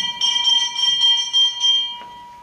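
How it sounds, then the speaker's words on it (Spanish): Old bells ring out as a sound effect in a 2022 Christmas theatre play, a bright jangling peal of several rapid metallic strikes with a steady ringing tone that fades away near the end. "De golpe, escuchó el sonido de unas viejas campanas"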